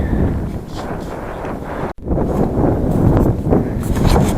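Strong wind buffets the microphone steadily while cycling along a quiet country road on a gentle climb, a dense roar with one brief dropout midway.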